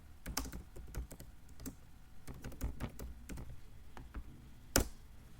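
Quick, irregular clicks of a computer keyboard as someone types a message, soft and close, with bursts of keystrokes and brief pauses and one louder tap near the end.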